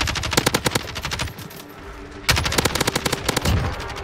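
Rapid automatic gunfire from a primary weapon in Call of Duty Warzone (Modern Warfare), loud bursts of fast repeated shots, a brief pause, then another sustained burst.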